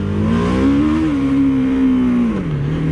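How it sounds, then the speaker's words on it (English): A 2017 BMW G 310 R motorcycle engine revs steadily and loudly up close, its droning tone rising slightly, holding, then dropping as the throttle eases. "See how much power that thing has if you rev her up."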